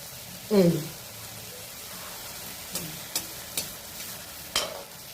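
Sweets stuffed with nakuldana deep-frying in oil, a soft low bubbling sizzle punctuated by a few sharp taps and scrapes as the oil is swirled, with a brief voice-like murmur near the start.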